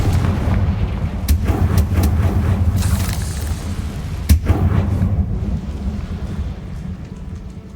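Confringo fire spell blasts in the Hogwarts Legacy game, with a deep rumbling roar throughout, sharp cracks and one heavy booming impact midway, loud and dense with no speech.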